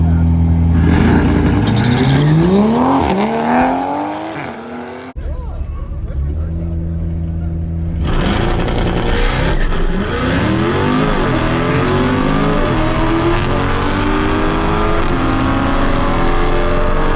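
Stock C8 Corvette drag racing a 2020 Supra at night, loud engines rising through revs, a brief drop around five seconds, then strong sustained acceleration roar with rising gear harmonics, crowd babble faintly underneath.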